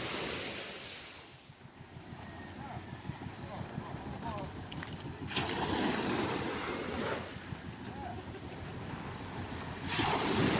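Sea waves wash and slap steadily around a small fishing boat out on open water, with gusting wind and a person talking over the surf.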